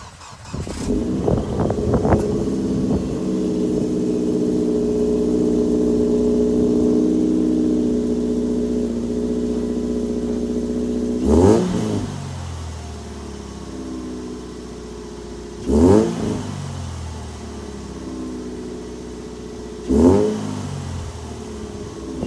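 A car engine fitted with stainless steel headers and a Magnaflow axle-back exhaust idles with a steady low rumble, then is revved hard three separate times, each blip rising sharply and falling back to idle, close and loud with no talking.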